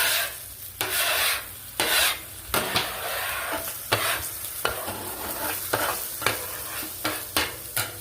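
Metal spatula scraping chicken drumettes across a hot Blackstone griddle while brats cook, with repeated rasping strokes in a steady rhythm over continuous sizzling, close and fairly loud, no voices.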